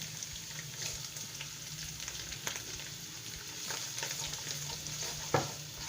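Spices crackle and sizzle in hot oil with sautéed ginger-garlic paste, a steady frying hiss with scattered pops and occasional stirring scrapes.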